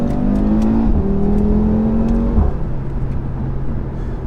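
A sports car engine revs hard, its pitch climbing in steady pulls with a brief shift dip partway, loud and close, with no talking.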